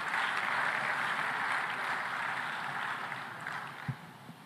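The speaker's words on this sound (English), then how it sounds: "May I ask you to give a big round of applause to the young people in the room." Applause from a conference audience at an African food systems forum in Dar es Salaam, a soft, sustained wash of clapping that gradually fades, with a single dull knock near the end.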